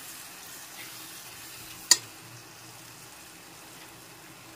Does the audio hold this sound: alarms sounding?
no